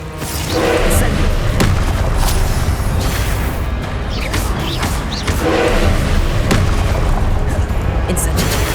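Incendio fire spell cast in the Hogwarts Legacy video game: loud, dense booming bursts with thudding impacts and whooshing flame over a constant, heavy game soundscape, repeating several times throughout.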